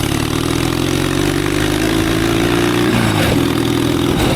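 Twin-cylinder four-speed mini bike with a custom stainless steel exhaust, ridden past with a steady, loud engine drone that rises and dips slightly near the end, no voices over it.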